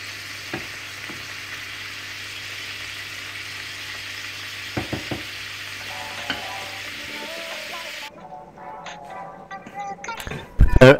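Beef cubes stir frying in a hot pan give a quiet steady sizzle with a few stirring knocks, then the frying drops away and clattering utensil sounds follow near the end.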